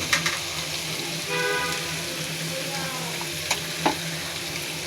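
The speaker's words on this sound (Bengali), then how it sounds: "দেখুন এখন আমি আমার কুটে রাখা ছোট বাইন মাছগুলো দিয়ে দিচ্ছি" Small spiny eel fish fry in a pan, an even, continuous sizzle with stirring, close and moderately loud, broken by a few sharp clicks of a utensil and no talking.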